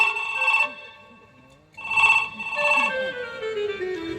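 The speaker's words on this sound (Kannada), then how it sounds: "ಫೋನ್ ಬಂದೇ ಬಿಡ್ತು, ಕೇಳುದಿಲ್ವಾ?" A mobile phone rings with a melodic electronic tone in bursts during a Kannada stage comedy scene at a village fair. The ring is fairly loud and close, with a quieter stretch between bursts.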